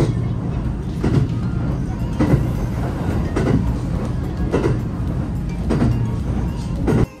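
Steady rumble of a one-man-operated train running on tracks in Nara Prefecture, approaching Tenri Station, with periodic rhythmic thumps every second or so as wheels cross rail joints, continuous and fairly loud.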